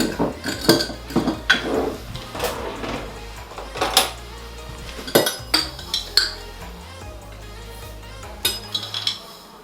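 Clinking of a spoon against a bowl as two tablespoons of chia seeds go in for no-bake chocolate peanut butter protein bars, a series of light, close taps and rattles with a steady low hum underneath.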